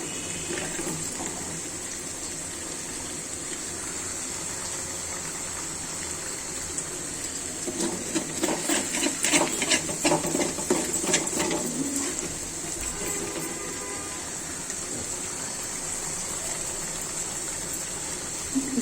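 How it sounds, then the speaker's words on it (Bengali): Tap water runs steadily while a fish-curry pan is washed, a continuous close hiss with a louder gushing, clattering stretch in the middle as the pan is scrubbed under the stream. "আমি এখন আমার মাছের কড়াইটা ধুয়ে দিব।"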